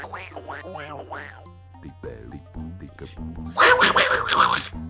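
Cartoonish Donald Duck-style quacking from the video game Goblin's Quest 3, a run of nasal, warbling squawks followed by a louder burst of bright jingling game sound.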